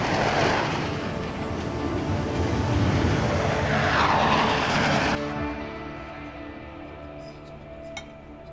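A loud, broad aircraft roar swells as the plane takes off, then cuts down to a quieter hum.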